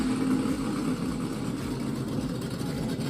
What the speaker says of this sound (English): let's hit the throttle once, and that's just going to get it to turn on the motor